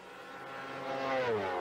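A 1994 Formula 1 car at the German Grand Prix in Hockenheim, its engine missing a cylinder, passes with a rough rising then falling whine, growing louder as it nears.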